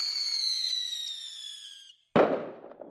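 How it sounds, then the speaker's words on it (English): A single firework bursts with a sharp, loud crack after a long rising whistle tapers into a second of silence, then crackling debris fades out; no talking. "Fireworks."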